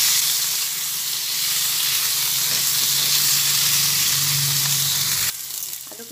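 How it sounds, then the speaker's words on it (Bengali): Potato pieces fry in hot oil with turmeric and salt over high gas flame, giving a loud, steady close sizzle and hiss that drops off sharply near the end. "গ্যাসের তেলটা একদম বাড়িয়ে দিয়ে আলুটা আমি ভেজে নিচ্ছি"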